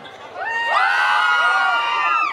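Jaripeo crowd at an outdoor rodeo event cheering and shouting, a sustained loud mass of voices with whoops swelling over a couple of seconds.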